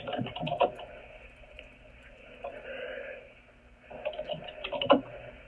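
Typing a person's first name on a computer keyboard: bursts of quiet keystroke clicks at the start and end with a pause between, faint and close.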